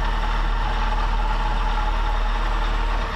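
A sailboat's engine idles roughly out on Lake Erie, a steady loud low drone with an uneven throb that continues without pause and has no talk over it.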